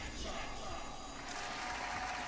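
A recorded applause sound effect plays for a jackpot spin in a game, a continuous even burst of clapping and light crowd noise at modest level.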